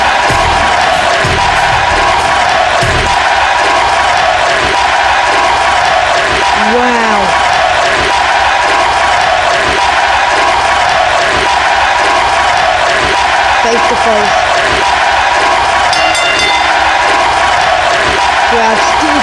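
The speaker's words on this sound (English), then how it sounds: "The crowd is chanting Eddie." A loud wrestling arena crowd chants and cheers for Eddie Guerrero, a dense continuous roar filling the whole stretch, with commentators talking over it.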